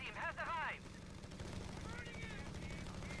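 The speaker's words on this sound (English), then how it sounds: "We have machine guns on the field for both players here." Rapid machine gun bursts rattle in the Company of Heroes 3 real-time strategy game, a steady crackle of gunfire running under battlefield effects after a brief high whistling sound, with commentary voice in the background.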